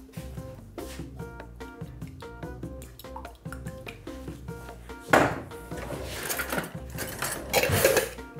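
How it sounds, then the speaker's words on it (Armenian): Metal whisk tapping and scraping rhythmically against a bowl while ingredients, sugar and olive oil among them, are beaten for a sandwich batter, the strokes at first quick and clicking, then becoming louder and more splashy. "Թափահարում ենք"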